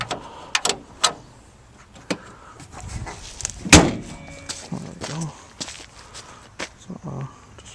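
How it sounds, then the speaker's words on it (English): A loud, sharp slam of a 1990 Geo Metro's hood stands out among scattered thumps, footsteps and movement nearby. "Actually, I can close the hood,"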